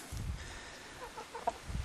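Soft, scattered clucking from a few chickens close by, with short murmuring calls over a low background rumble.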